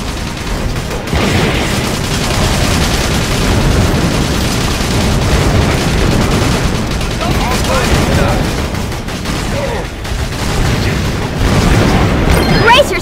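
Heavy gunship gunfire in the video game Battalion Wars, a dense, continuous barrage of bursts and booms that stays loud throughout with little let-up.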